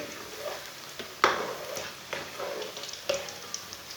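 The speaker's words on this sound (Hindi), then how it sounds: "ऐसे ही उल्टाते हुए ब्राउन कर लेंगे।" Pakoras sizzle softly in hot oil as they are turned with a utensil, producing light crackling and a few sharp scraping taps at irregular intervals, fairly quiet and close.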